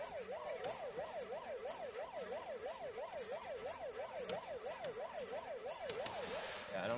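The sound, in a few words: air raid siren in a video game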